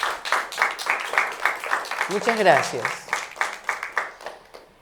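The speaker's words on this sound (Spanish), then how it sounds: "Recibamos con un aplauso" An audience applauds at a literature and wine program, a dense run of clapping throughout while someone briefly speaks over it.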